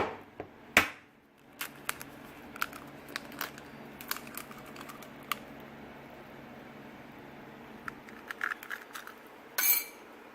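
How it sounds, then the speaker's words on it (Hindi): An egg cracks sharply against a bowl's edge in a kitchen, followed by a scatter of faint clicks and taps, then a brief burst of whisking or scraping near the end. "ये 1 अंडा हम तोड़ के इसमें डालेंगे।"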